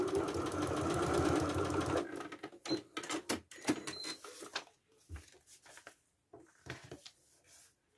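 A sewing machine stitches down a seam line in a steady two-second burst, followed by quiet handling noises and small clicks.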